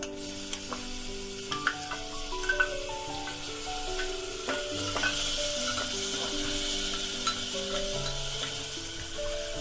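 Tomatoes dropped into a hot pan for a vegetable daliya, sizzling steadily while a spoon stirs and clinks against the pan, the frying hiss growing fuller midway; no speech.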